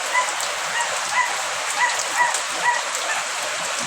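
Heavy typhoon rain pouring steadily on surfaces, a dense continuous hiss with scattered louder drops, no voices.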